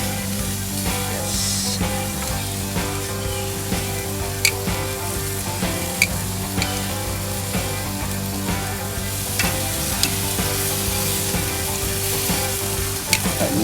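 A tomahawk ribeye steak sears hard in a hot pan, giving a steady close sizzle and crackle with occasional sharp pops, while faint background music plays throughout.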